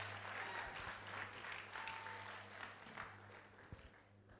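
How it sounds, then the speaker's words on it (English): Audience applause fills a medical and dental induction ceremony hall, a steady wash of clapping at moderate level over a low constant hum, with no speech. "A round of applause."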